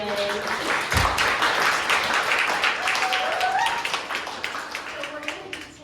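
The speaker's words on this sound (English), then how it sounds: "Big round of applause for the DJ." Audience applause and cheering for the DJ at a live show at Two Rivers Cider, a dense, steady wash of clapping over background music that thins out toward the end, with a voice talking over it.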